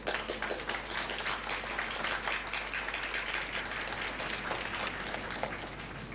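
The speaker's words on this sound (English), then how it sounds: "give a big warm welcome applause to the Prince and Princess" Warm welcoming applause fills an auditorium for the visiting Prince and Princess of Liechtenstein, a steady, dense wash of clapping from a large seated crowd that holds evenly throughout without fading.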